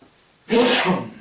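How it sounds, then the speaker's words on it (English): A single sharp sneeze, close and loud, bursting out after a moment of quiet. "Hang around these things long enough and you'll start to sneeze."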